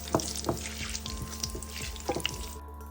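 Mustard seeds, urad dal and chana dal fry in hot oil in a pan, a steady bright sizzle with a few scattered pops and scraping stirs, and no talk.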